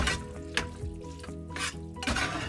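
Cooked pasta worked into a thick hamburger and tomato sauce mixture for baked spaghetti, giving wet, squelching stirring sounds with a few sharper clacks of the utensil against the pan, close and fairly loud with a low background hum.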